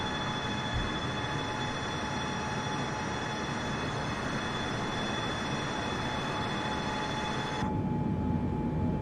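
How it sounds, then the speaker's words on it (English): Boeing 747 engines heard from inside the cockpit of a flight simulator, a steady broad airy roar with a constant tonal whine that cuts off sharply near the end, leaving a lower rumble. "just listen to how quiet those engines are in the cockpit"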